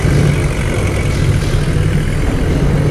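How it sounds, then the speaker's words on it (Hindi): Mahindra MU4501 45 hp two-wheel-drive tractor on 14-28 tires pulls a 7-foot rotavator through a field, giving a steady, loud, low engine drone with churning rumble throughout. "45 टू व्हील ड्राइव ट्रैक्टर का डेमो हो रहा है 7 फुट रोटावेटर पे"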